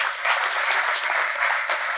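Steady audience applause at a religious discourse, many hands clapping in a continuous, moderately loud wash with small surges in intensity across two seconds.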